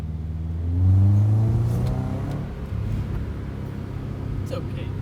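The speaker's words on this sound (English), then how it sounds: "Here's a little acceleration." A 2016 Subaru Impreza 2.0i Limited with paddle shifters accelerates, its engine rising in a loud, close rumbling surge in the first couple of seconds, then settling into a steady drone.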